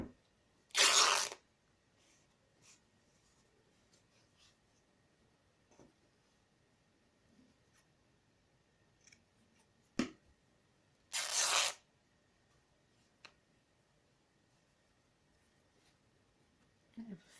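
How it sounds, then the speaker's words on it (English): Fabric is torn by hand into pieces in two short, sharp ripping bursts separated by long quiet stretches of faint handling and rustling, close and clear. "Just randomly just tear into them and get a selection of different sizes."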